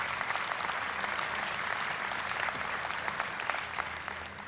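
A conference audience applauds a sponsor with steady, moderately loud clapping from many hands that continues for several seconds and fades slightly at the end.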